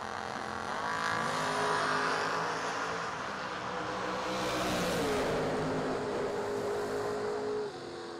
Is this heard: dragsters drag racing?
yes